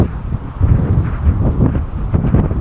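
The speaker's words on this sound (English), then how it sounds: "because of this wind. It is roaring out here" Strong wind roars across the open Australian outback between Broken Hill and Wilcannia, battering the microphone in loud, continuous gusts with a low rumbling buffet and no other sounds.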